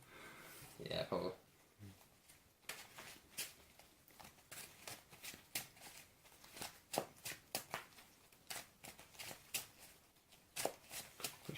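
Playing cards riffle-shuffled by hand, a quick series of close, crisp fluttering bursts repeating in a steady rhythm, faint overall, with people talking in the background.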